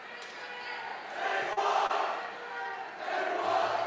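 A high school student section roars and cheers through a girls varsity volleyball match, a dense continuous crowd noise that swells in waves.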